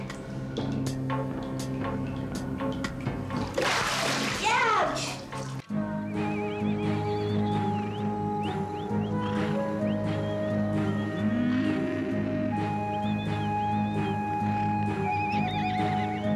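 A herd of horses being rounded up onto new pastures, with a loud close whinny near the start, then hooves clopping and further neighs over a steady background while a voice speaks.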